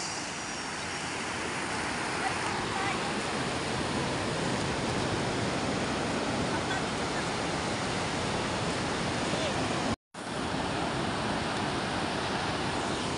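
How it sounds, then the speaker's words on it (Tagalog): A strong current of flowing water gives a dense, steady roar that fills the whole span at close range, broken only by one brief dropout near the end. "lakas po na agos"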